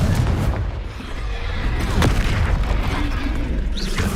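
A Confringo explosive spell blasts in Hogwarts Legacy, a loud close booming burst with a rumbling tail amid combat sounds.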